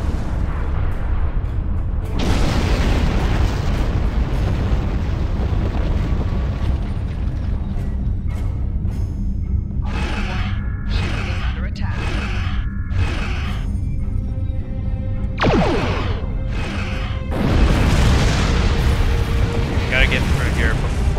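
Booming cannon blasts and explosions from a disruptor turret in a Star Trek Klingon space video game, a dense rumbling barrage with repeated sharp bursts and a heavier blast near the end, with game voices over it.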